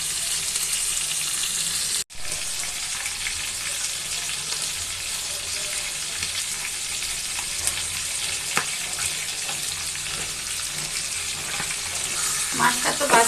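Marinated pangas fish frying in hot oil, a loud, steady, close crackling sizzle that runs throughout, broken only by a brief cut near the start and a few sharper pops toward the end.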